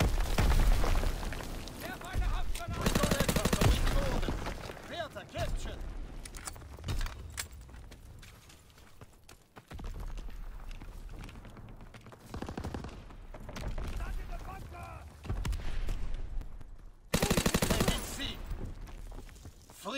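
Battle sounds in a war video game: bursts of gunfire and heavy booms rise and fall across the stretch, loud volleys near the start and end with quieter gaps of scattered shots and voices between.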